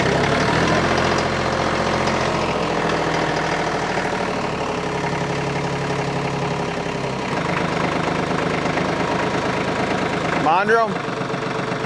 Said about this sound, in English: let me get the tractor up here and see if we can get this off.